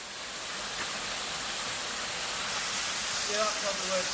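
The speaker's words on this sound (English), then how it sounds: "Josh is taking a photograph of the waterfall" A waterfall pours as a steady broad hiss close by, a constant rushing wash with a faint voice speaking briefly near the end.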